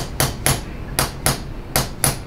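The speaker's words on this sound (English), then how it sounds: "This PT's got a hammer though." A physical therapist's hammer tapping during a spinal decompression session, sharp close knocks in pairs, about six strikes in quick rhythm, with no talk.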